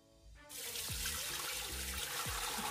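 Homemade Jamaican sorrel drink is poured through a strainer into a kitchen sink, a steady rush of liquid with splashing that starts abruptly and keeps running loud and close.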